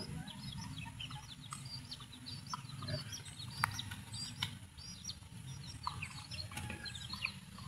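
Native bantam chickens in a small backyard flock give soft, scattered clucks and chirps at a distance, faint over a low steady background hum.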